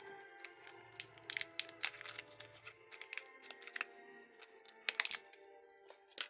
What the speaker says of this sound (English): I'm trying to cut these without making a lot of noise